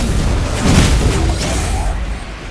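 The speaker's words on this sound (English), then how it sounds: "Our turret has been destroyed." A turret blows up in a Mobile Legends: Bang Bang match, a loud booming blast with a brief rumbling burst that fades into dense game noise and effects.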